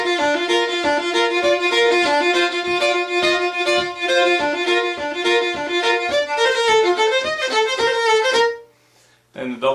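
A fiddle plays a quick, bright hornpipe with busy double shuffle bowing, notes repeating in a steady shuffle, then stops abruptly near the end.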